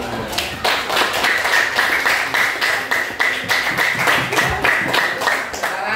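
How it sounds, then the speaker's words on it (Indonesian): Classroom students clapping for a presenting group, a steady run of distinct, fairly rhythmic claps close by and moderately loud, sustained for several seconds. "Kelompok 1 berikan tepuk tangan dulu."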